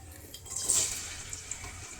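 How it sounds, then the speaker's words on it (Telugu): Water runs faintly from a kitchen tap as hands are washed, a soft, steady splashing hiss with no talk over it. "చేతులు కడుక్కోవాలి"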